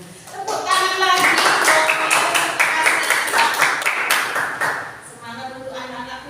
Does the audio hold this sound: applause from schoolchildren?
yes